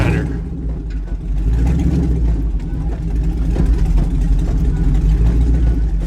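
An old lawn mower engine, recently plugged up with bad gas, runs with a steady loud drone at close range, its throb continuous throughout.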